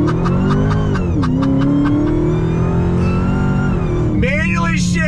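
A 2020 Dodge Charger Hellcat Widebody accelerates hard on throttle, its supercharged engine rising in pitch through a shift and roaring loudly and steadily close by, with a brief tire squeal near the end.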